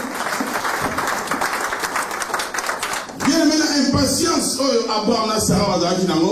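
A church congregation breaks into loud, sustained applause and clapping that fills the space, with a noisy crowd din and voices rising over it in the second half.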